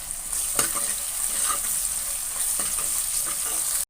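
Garlic sautéing in dry fish curry masala, a continuous close sizzle with spoon scrapes and stirring knocks and a faint high whine above it.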